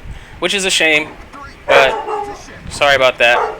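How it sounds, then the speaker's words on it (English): A pet dog barks in a home while a man plays World of Warships; three short bursts of yapping barks break in around his talking. "That's my dog. I'm going to mute the mic until she shuts up."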